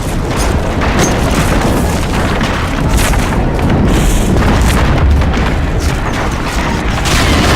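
A Bangalore torpedo blast in the video game Medal of Honor Frontline makes a loud, sustained roar of explosion and rumbling debris that fills the whole stretch without a break.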